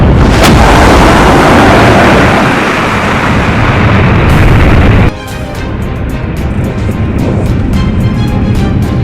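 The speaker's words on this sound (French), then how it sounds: "Explosion! Faut lui exploser sa gueule à ce dictateur!" A loud, close explosion sound effect roars and rumbles for several seconds, then cuts abruptly into a lower, crackling debris-like tail that continues to the end.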